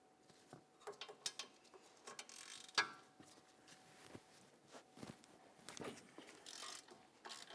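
A ratchet turns the caliper bracket bolt on a 2015-2024 Jeep Renegade's front brake with an inverted T20 socket, making quiet, uneven runs of clicking with a sharper mechanical snap partway through, close by.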